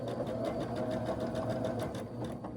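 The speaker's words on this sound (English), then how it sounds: "I'm going to start with a leader inside my sewing machine." A sewing machine stitches through fabric in a fast, even mechanical whir with a light rhythmic pulse, heard up close at moderate volume.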